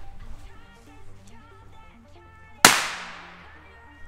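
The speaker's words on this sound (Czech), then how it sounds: "petarda Pico Pirat." A Pico Pirat, a tiny firecracker holding only 0.06 grams of composition, goes off in a single sharp crack with a brief decaying tail, heard over quiet background music.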